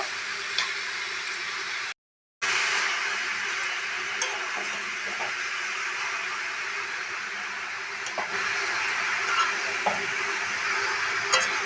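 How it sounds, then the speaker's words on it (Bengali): Cabbage, carrot and fried onion stirred in a pan, with a soft continuous sizzle and occasional scraping knocks of the spoon, interrupted by a brief silent gap, and no voices. "আস্তে আস্তে করে নাড়িয়ে দেবো"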